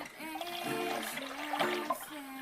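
Coconut milk and coconut water are poured into a pot for a Thai pumpkin dumpling dessert, giving a steady, moderately loud liquid stream with a faint tonal hum underneath.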